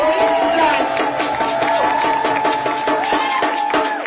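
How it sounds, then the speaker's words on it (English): A crowd at a New York protest rally cheers and claps, with loud whoops and shouts over scattered applause that fades slightly toward the end. "you all need to give yourself a round of applause"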